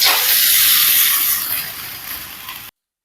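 Fried jujubes (kul) drop into a hot kadai and set off a loud, bright sizzling hiss that slowly fades over about three seconds before cutting off.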